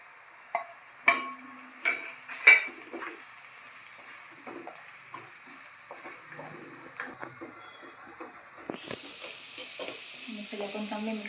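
Garlic greens being stirred into vegetables in a frying pan for an aloo-matar dish, with a few sharp scraping clinks of a spoon against the pan early on, then soft intermittent stirring and a rising sizzle toward the end.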